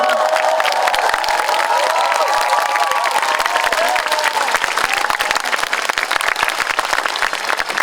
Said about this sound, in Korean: 권 여사님 인사 여러분 뜨거운 박수로.